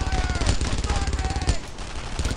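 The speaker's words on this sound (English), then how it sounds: "Campbell! Fire on that in Paddock! Shut that gun down" Rapid machine gun fire in the World War II shooter Brothers in Arms, a dense, continuous stream of close bursts rattling without pause.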